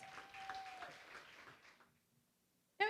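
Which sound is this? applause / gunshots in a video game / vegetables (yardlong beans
applause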